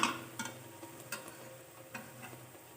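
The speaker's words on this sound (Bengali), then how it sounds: "আরও একটা ভাজছি আমি এখানে" Pea-stuffed kachori frying in oil in a kadai and being turned over: a soft, steady sizzle with a few sharp clicks and taps, fairly quiet and with no talking.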